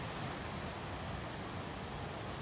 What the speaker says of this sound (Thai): สำหรับคลิปนี้ฟังเสียงคลื่น